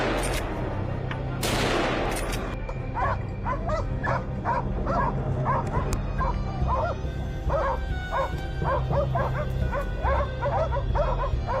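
Hunting dogs bark in rapid, repeated volleys as they drive wild hogs away from orange crops. The barking is close and loud, and a sharp burst of gunfire comes near the start.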